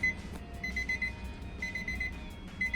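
Nissan 350Z chime after the ignition key is turned, a series of repeating high electronic beeps in quick pulses, clear and close over a low engine or cabin hum, without talk.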